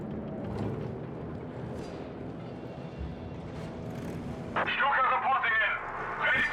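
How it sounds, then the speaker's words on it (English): Artillery barrage and rocket strike pounding advancing German forces in Company of Heroes 3, a low rumbling wash of distant blasts that swells into a brighter, crackling burst of explosions near the end. "Big barrage here on advancing German forces"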